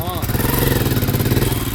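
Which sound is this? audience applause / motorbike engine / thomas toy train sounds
motorbike engine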